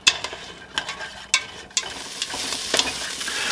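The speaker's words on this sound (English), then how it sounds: "we're just going to saute these in the oil for a couple minutes until the onion has tenderized" Diced onion sautéing in hot oil for a chicken curry, a steady faint sizzle broken by several sharp scrapes and stirs of a utensil against the pan, with no talking.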